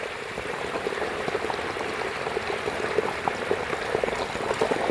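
Continuous gurgling and bubbling of water flowing in a farm irrigation channel carrying dissolved cow dung, steady and close, with small splashes scattered throughout and no voices.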